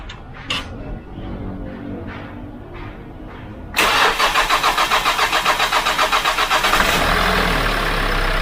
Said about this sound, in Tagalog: Buksan natin yung makina.